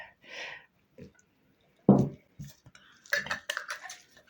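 Salted adjika being stirred in glass jars: scattered clinks and scraping of a spoon against glass, uneven and close, with brief gaps between strokes.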